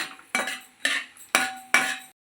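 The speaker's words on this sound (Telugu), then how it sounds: "ఇప్పుడు వచ్చేసి నెయ్యి వేస్తున్నాను వేస్తున్నాను ఒకసారి తిప్పుకుందాం మొత్తం" A spoon stirs ghee into rava ladoo mixture in a pan in four evenly spaced scraping strokes, each a sharp metallic rasp close by, ending in silence.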